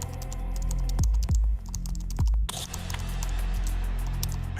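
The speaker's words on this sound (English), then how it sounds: "Her hands flew over the keyboard with supernatural speed." Fast typing on a laptop keyboard, dense rapid clicking that runs in bursts with brief pauses, close and clear over a low steady hum.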